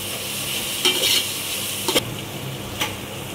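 A vegetable biryani mixture with ginger-garlic paste frying in a pan, a soft continuous sizzle broken by a few brief scraping strokes of a spoon stirring it.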